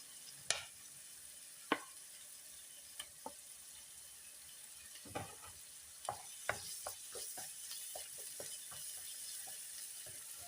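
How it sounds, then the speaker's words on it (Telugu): Onions and ginger garlic paste frying in a pan for a cabbage tomato curry: a faint steady sizzle broken by scattered sharp clicks and spatula taps, with no talking. "ఇప్పుడు ఇందులో అల్లం వెల్లుల్లి పేస్ట్ అయితే వేసుకుందాము"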